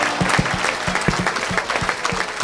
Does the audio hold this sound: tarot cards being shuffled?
no